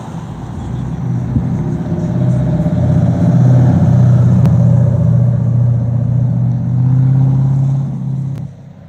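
Chopped telephone booth T hot rod with a small block GM engine, a deep, steady low rumble that swells and holds close by for several seconds, with faint background noise and no talk.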